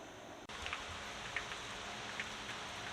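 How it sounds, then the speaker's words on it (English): Steady rain falling in Florida near a boat, a continuous broadband hiss with scattered louder drop impacts, starting abruptly and holding at an even level with no voices. "rains every day in Florida, but as I wait out the rain"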